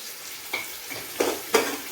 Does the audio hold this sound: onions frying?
yes